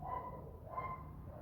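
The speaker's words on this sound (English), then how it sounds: "With dog barking," Two muffled dog barks, spaced about half a second apart, sound fairly distant over a low steady rumble.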